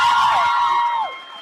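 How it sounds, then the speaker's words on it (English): An audience at a May Day high school graduation service cheers and whoops, a bright sustained roar of voices that fades toward the end. "Come on, cheer them one more time."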